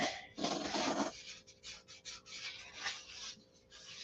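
Close-up sanding of a SIG Magnum finish, harsh raspy strokes rubbing back and forth in short uneven bursts, one long heavy pass followed by lighter quick scrapes, with no talking.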